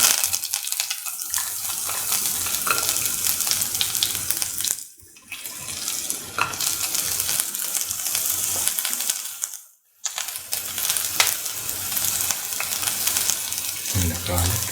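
Sliced shallots sizzle steadily in hot oil in a pan for a tomato coconut stew. A continuous close hiss is broken twice by brief quiet gaps, with a few faint clinks.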